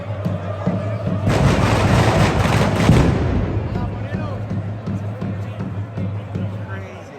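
Loud burst of fireworks set off beside a crowd in Seville, Spain: a dense crackling barrage for about two seconds, then a decaying rumble and scattered pops with crowd noise underneath.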